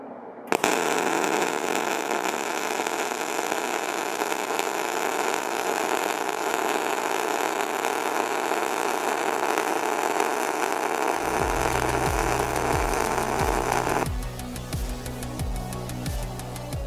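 A MIG welder lays a weld bead with a loud, steady hiss and crackle that runs unbroken for about fourteen seconds, then stops, leaving a low hum and faint ticking afterward.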